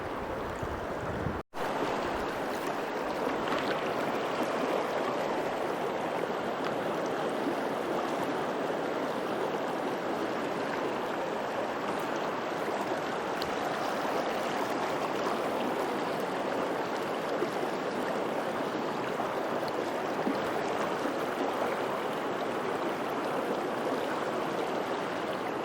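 A clear, cold mountain creek in the Smokies backcountry rushes steadily over rocks, a loud, continuous wash of flowing water close by with no voices.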